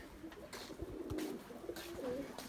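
A pigeon named Paşa cooing softly as it enters its coop, a few low, gentle calls rising and falling close by over quiet background noise.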